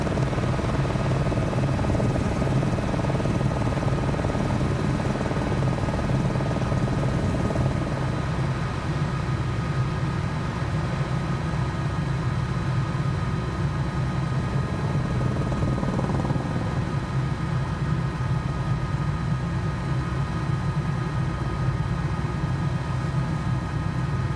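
Steady drone of an aircraft engine and propeller in Microsoft Flight Simulator 2020 as the plane climbs to gain altitude, a continuous loud hum with no speech.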